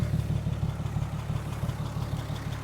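A 1959 Willys Jeep flatbed truck engine idles steadily with a throaty, pulsing glass-pack exhaust rumble, close and continuous with no talking.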